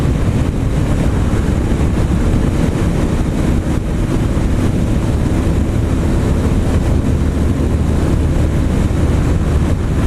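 A 2015 Kawasaki KLR 650 with a 16-tooth sprocket cruising in fifth gear at about 4,000 RPM and roughly 60 mph gives a constant, loud engine drone mixed with heavy wind rush. The sound is steady throughout, with no talk.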